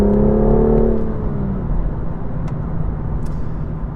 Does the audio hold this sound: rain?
no